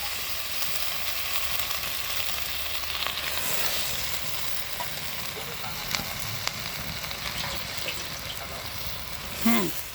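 Red amaranth greens fry in a pan with pangas fish, a steady soft sizzle and hiss with faint clinks and a brief clatter near the end, with no talk.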